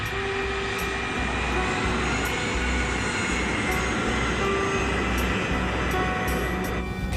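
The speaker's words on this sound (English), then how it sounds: "The KLM plane is groping its way through fog." A KLM airliner taxis on a runway in fog, its engines a steady, loud, unbroken roar with a faint whine throughout.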